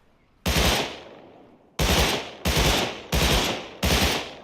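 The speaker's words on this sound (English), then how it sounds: "So now you're gonna see this Thompson acts kind of like a BR." A Thompson submachine gun fires in the survival video game Rust, a loud single booming shot followed by four more spaced shots, each with a sharp attack and a fading tail, and no talk.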